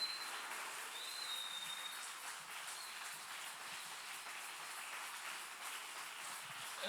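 Applause from a church congregation during a worship service, a steady dense wash of many hands clapping with no clear breaks, moderately loud and even throughout.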